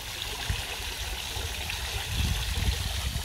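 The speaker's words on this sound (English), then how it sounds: "Here's the water fountain." Water runs steadily from a small outdoor garden fountain, a close continuous trickle and gurgle that rises slightly toward the end, with no voices.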